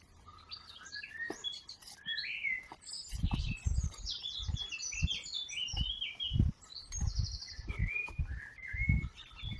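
Birds sing and chirp in a lively outdoor chorus in Yorkshire, varied warbling calls overlapping, with soft low thumps like footsteps or wind underneath.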